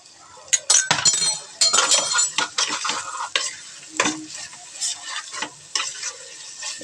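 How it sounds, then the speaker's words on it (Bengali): Spice paste with nutmeg and mace is sautéed in a pan for chicken roast, with clattering spoon-against-pan scrapes and knocks in irregular bursts over a light sizzle, loud and close. "এবার ভালো করে কষিয়ে নেব"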